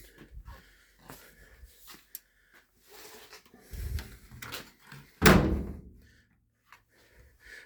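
A car door swings shut with a heavy clunk as it hits a post, preceded by quieter knocks and handling sounds.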